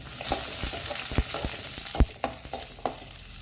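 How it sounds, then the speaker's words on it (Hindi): Onions frying toward brown in a pan for Goan chicken xacuti, a dense continuous sizzle with sharp spatula scrapes and knocks every half second or so, close and fairly loud. "प्याज को ना बढ़िया सा एक ब्राउन कलर आने तक हमें इसे फ्राई करना है।"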